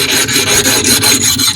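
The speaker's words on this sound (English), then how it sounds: "at some point in the lapping, I put the stone on an angle to chamfer" A Japanese natural whetstone is rubbed back and forth on a flat lapping plate, giving a loud, close, gritty rasping in quick repeated strokes with no voices.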